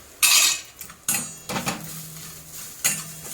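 Coriander, cumin and fennel spices tossed in a pan, heard as a few sharp metallic clanks and scrapes of a spoon against the pan with short gaps between, close and fairly loud, no talking.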